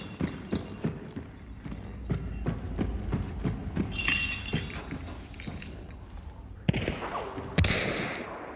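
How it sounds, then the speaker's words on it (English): Gunfire from an opposing team in the game Hunt Showdown: a rapid series of sharp, distant-to-mid shots, then a few heavier close cracks with glassy, shattering tails near the end. "other team shooting me"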